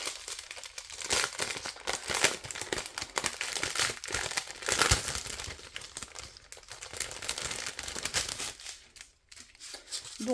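Crinkly plastic packaging of a craft kit being handled and torn open, producing continuous close crackling and rustling with sharp bursts throughout.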